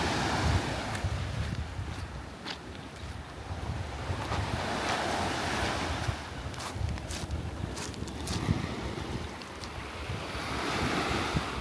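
Surf washing into a quiet, deserted bay on the Black Sea, a steady broadband rush of breaking waves with gusts of wind buffeting the microphone throughout, no voices.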